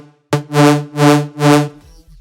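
Phased dubstep bass synth built in Serum from the Sweep 20 wavetable, three loud, throbbing sustained notes in a steady pulse with a sweeping, wobbling tone, played alone.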